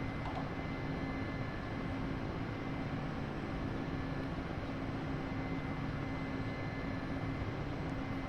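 Mi-8 helicopter preparing for takeoff in a snowstorm, heard as a constant loud engine and rotor roar with steady wind-like noise and a faint high whine, unbroken from start to finish.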